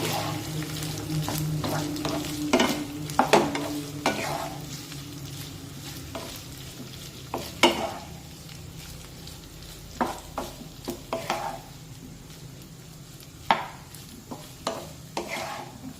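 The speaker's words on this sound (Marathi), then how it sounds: "आता यामध्ये या ज्या आपण बटाट्याच्या फोडी करून घेतलेल्या आहेत त्या फोडी या मिरचीमध्ये टाकूया आणि व्यवस्थित मिक्स करून घेऊया" Potato pieces are stirred into green chilies in a pan, giving a soft sizzle under scattered scrapes and clinks of the spoon against the pan, up close with no talking.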